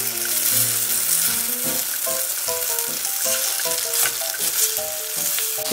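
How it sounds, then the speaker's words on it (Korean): Perilla leaf and chili pancakes pan-frying in oil over low to medium heat, a steady loud sizzle with crackling pops running continuously and close up, no voices. "불은 약불, 중불로 조절하시면서 이렇게 앞뒤로 노릇노릇 구워주시면 됩니다."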